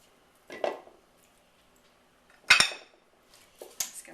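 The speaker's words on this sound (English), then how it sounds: "Make sure it's all mixed in from the bottom of the bowl." Red velvet cookie dough is stirred in a mixing bowl, heard as three separate scraping clinks of a utensil against the bowl, close and fairly quiet, with silence between them.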